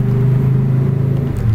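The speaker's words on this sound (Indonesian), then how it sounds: "Mohon maaf ya, banyak motor." Motorbikes passing outside: a steady, loud low engine hum and rumble that holds throughout, with a small shift in pitch near the end.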